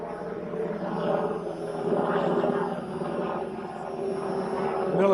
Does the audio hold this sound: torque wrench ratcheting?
no